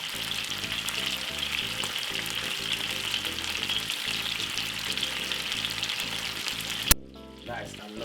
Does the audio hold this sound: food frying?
yes